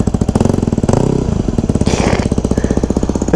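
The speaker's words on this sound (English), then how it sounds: "Listen to that nice Yoshi slip-on and FMF header. Oh, doesn't it sound so good for a little thumper?" A 2009 Yamaha WR250X single-cylinder motorcycle with a Yoshimura slip-on exhaust and FMF header runs close by, its rapid, steady thumping pulse loud throughout and rising briefly in a short rev near the middle.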